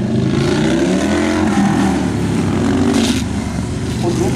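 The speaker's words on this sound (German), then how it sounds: "Dieses Mal fährt Thilo anders diese Kurve. Fährt sie eng, holt aus, um in die Schikane besser reinzukommen" Indian bagger motorcycles race through a curve into a chicane at a circuit in Ampfing, Germany, with loud engines revving and droning up close and a commentator talking over them.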